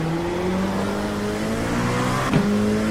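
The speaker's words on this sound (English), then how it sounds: "Faster car coming up quick." A faster hypercar closes in and passes in a racing video game at Spa, a steady loud engine drone with rising harmonic tones and a brief burst as it goes by near the end.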